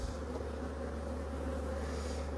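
A steady, close insect drone of many honeybees humming together at an opened hive, continuous and even with no breaks.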